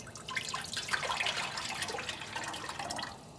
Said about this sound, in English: I'm just going to dump a quart of homemade chicken stock.